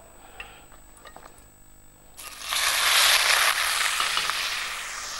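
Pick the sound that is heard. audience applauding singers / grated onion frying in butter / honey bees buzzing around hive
grated onion frying in butter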